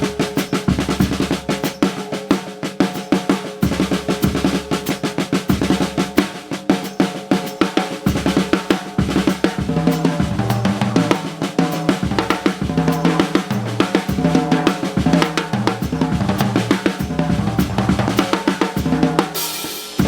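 Improvised drumming builds eighth-note melodic phrases around an extended rudiment, with dense, loud hits moving across the kit under continuous cymbal wash, played alone without talk.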